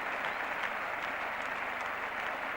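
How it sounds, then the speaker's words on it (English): Steady applause as Viv Richards walks off at The Oval after his innings of 291 against England, a continuous patter of many hands clapping, fairly distant and even, with no talk. "Been applauded all the way in by the England team"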